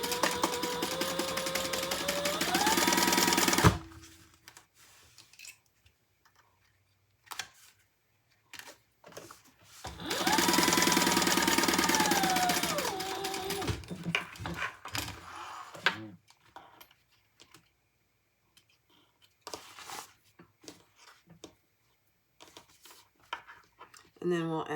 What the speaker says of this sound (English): I'm gonna just 1/8 of an inch top stitch on this just so it stays closed.